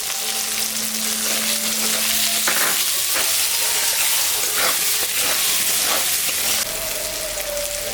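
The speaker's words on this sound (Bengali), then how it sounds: "আমটা ভাজা ভাজা হয়ে গেছে, এখন আমি লবণ হলুদ দিয়ে দিলাম।" Mango pieces frying in a pan as salt and turmeric go in, a loud, dense, continuous sizzle like heavy rain, close up and unbroken throughout.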